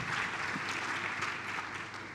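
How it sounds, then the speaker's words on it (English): A summit audience claps together in a dense, steady patter that holds at an even level and fades slightly toward the end. "since you got the applause, I don't want to leave it at that"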